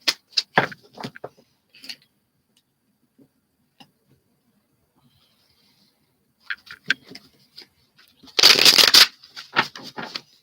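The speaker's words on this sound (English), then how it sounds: "I think I need to shuffle these." Tarot cards are handled and shuffled close up, with scattered soft taps and one loud riffling burst near the end, then a few more flicks.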